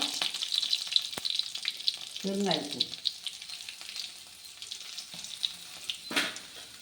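Green chillies fry in hot oil in a pan, giving a light crackling sizzle with occasional clinks of a utensil and a brief low voice in the middle.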